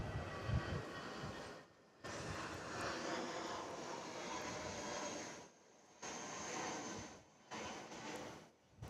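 Jetstar airliner departing Sydney Airport, a broad steady jet engine roar heard from a distance, interrupted by several brief dropouts.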